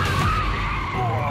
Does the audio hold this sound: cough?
no